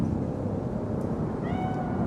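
A cat meows in the Cyberpunk 2077 video game, one short faint cry rising late over a steady, loud rumbling ambience.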